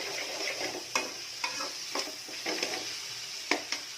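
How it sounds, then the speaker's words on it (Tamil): Onions sizzling and frying in a pan for paneer butter masala, with a steady hiss broken by several sharp scrapes and stirring knocks from a utensil, fairly close and with no talking. "இப்போதைக்கு வெங்காயம் வந்து வெந்துக்கிட்டே இருக்கு."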